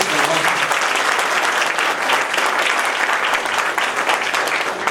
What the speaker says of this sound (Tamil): நல்ல கைதட்டுங்கள்.